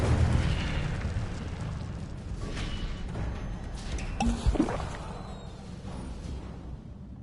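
An Incendio fire spell bursts in Hogwarts Legacy, a whooshing, crackling blast with sharp pops in the middle over rumbling game ambience, moderately loud with no talk.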